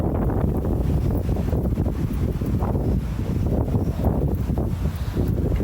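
Strong warm wind buffets the microphone on an outdoor walk, a loud continuous roar with gusty swells and no speech.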